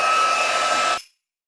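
A crafting heat tool used to heat-set embossing powder blows with a loud, steady whir like a hair dryer for about a second, then cuts off abruptly into silence.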